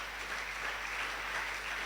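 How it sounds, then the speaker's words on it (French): A church congregation bursts into loud, dense applause to acclaim the Lord, a continuous wash of clapping hands that holds steady and close for a couple of seconds with no voices on top. "Aide-moi à acclamer le Seigneur."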